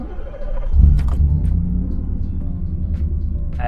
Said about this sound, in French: On va se faire un petit démarrage quand même, c'est pas tout.